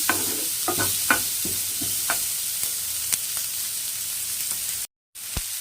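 Onions sauté in a pan for gravy, a steady close sizzle broken by scattered scrapes and clicks of stirring, with a brief dropout near the end.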